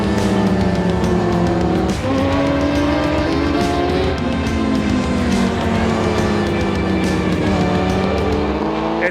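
A 600cc sportbike and a Yamaha R1 scream into turn 1 at a road racing championship, their high-revving engines loud and close, pitch rising and dropping through gear changes as they run together.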